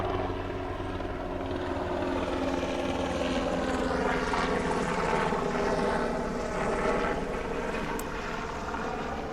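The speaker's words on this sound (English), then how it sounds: "You know what I like about helicopters is, right, like that one is on a mission" A helicopter's rotor thrums steadily overhead, loud and continuous, with a low chopping drone that swells slightly in the middle.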